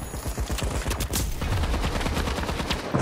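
Rapid automatic gunfire in The Finals, a dense, loud stream of shots with a steady rhythm throughout, no talking.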